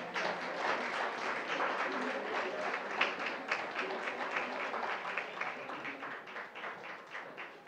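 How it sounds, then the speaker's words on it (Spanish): An audience at a forum on women's political participation applauds, with steady, moderately distant clapping that holds for several seconds and then slowly fades. "Les brindamos un aplauso y continuamos."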